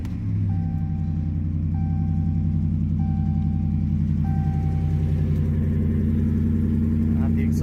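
A Ram pickup truck fitted with a different muffler and tailpipes runs with a steady low engine rumble that holds even and close throughout, with a few faint short tones sounding above it.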